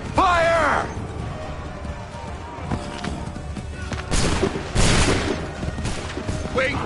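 Musket volleys crash out in an Assassin's Creed III battle, with a shouted command near the start and two loud broad bursts of massed fire in the second half over constant battlefield noise.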